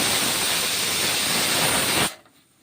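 A pressure cooker of mung and masoor dal hisses steam in a loud, steady broadband jet for about two seconds, then cuts off abruptly, leaving only faint room noise.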